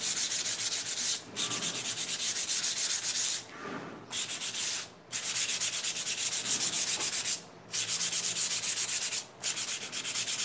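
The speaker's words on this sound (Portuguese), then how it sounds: "lixa, tá? As laterais da fita crepe." Sandpaper rubbing along the edges of masking tape on a kitchen sign, steady close scraping strokes broken by four brief pauses, with no talking.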